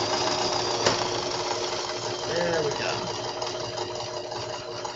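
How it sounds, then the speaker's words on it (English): A sewing machine stitching a corset front seam, a steady mechanical hum and rapid needle chatter running throughout, close and fairly loud, with a brief spoken remark over it. "I love the sound of a sewing machine."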